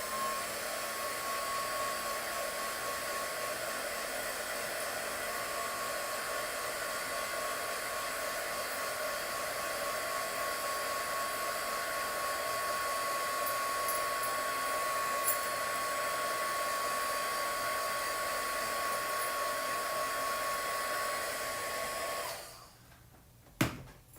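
Hair dryer drying brushed-on paint, a steady loud whooshing whine running nearly the whole time before switching off abruptly near the end, followed by a brief clatter.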